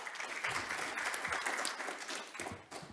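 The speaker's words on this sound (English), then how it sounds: "Please give them a round of applause." An audience at a public lecture on energy sovereignty applauds the panelists, a dense, steady patter of many hands clapping at moderate distance, thinning slightly toward the end.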